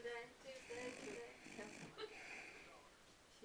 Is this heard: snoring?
yes